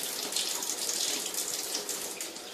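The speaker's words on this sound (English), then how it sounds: "the reason I'm washing the eggshells out is because when you throw them in the trash, washing them out will help them stop the smell." Kitchen tap water running steadily into a sink while eggshells are rinsed out, a close continuous splashing gush with slight fluctuations.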